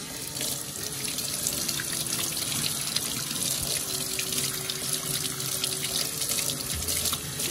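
Vegetables and scotch bonnet pepper being rinsed under a running kitchen tap, a steady loud rush of water splashing into the sink for several seconds with no talking.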